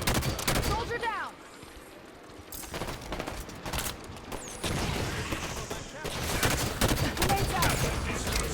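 Rapid gunfire and weapon bursts in the shooter video game Halo 5: Guardians, loud and close, coming in dense volleys with short pauses and mixed with other battle noise and in-game voices.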